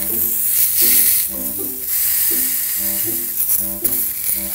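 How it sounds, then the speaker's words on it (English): Loud continuous sizzling of sausage patties and eggs frying on a hot griddle, with a faint melodic tune playing underneath. "Get ready for the sizzle."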